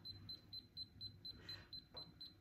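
A faint, rapid series of high-pitched beeps from a lost-item finder alarm, repeating evenly, about ten in quick succession, quiet as if from a small device nearby.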